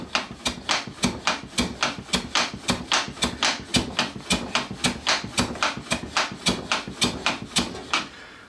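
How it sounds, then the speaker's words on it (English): A hand plane trims the end grain of a maple board on a shooting board. Close, steady back-and-forth strokes make a crisp rasping swish, about three each second, in a continuous rhythm for the whole stretch. "Can you hear that taking little nicks of wood off of there?"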